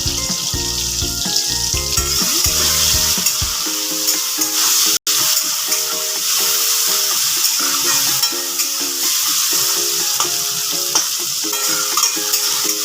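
Tomatoes frying with curry leaves, ginger and turmeric for South Indian-style dal, giving a loud continuous sizzle with scraping stirs, close and steady throughout, with no voices.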